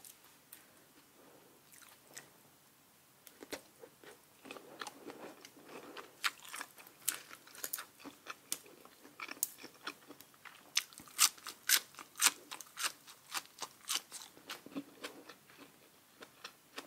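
Close, crunchy chewing and biting of grilled pork balls, with irregular crisp bites and wet mouth sounds building louder over time, no talking.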